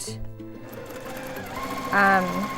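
A sewing machine stitches a seam on a scrappy circle-of-strings quilt block, its motor whirring in short bursts with a louder rising run near the end, while a person talks softly underneath.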